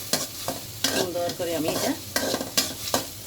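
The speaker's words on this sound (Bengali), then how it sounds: "ফ্রাই করে নেব পেঁয়াজের সাথে।" Onions fry in a pan with steady sizzling while a utensil stirs them in repeated scraping strokes, and a person talks over the cooking.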